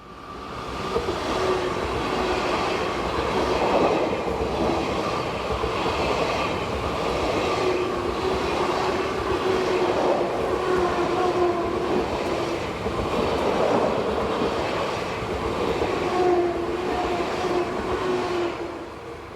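Swiss passenger train units of the 500 class drift downhill on the Gotthard south ramp on a Zurich to Lugano service, giving a continuous rolling rumble with a soft, rhythmic wheel clatter and faint squealing tones, no voices.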